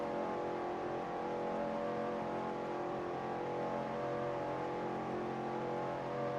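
A car engine drones steadily under load in fourth gear, a sustained, evenly pitched roar that never climbs, sounding bogged down and short of revs, with no voices.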